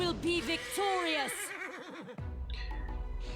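Evil undead horses in the Pathfinder: Wrath of the Righteous video game give several wavering, rising and falling whinnies in quick succession, loud and close, followed by a thud and other game sounds.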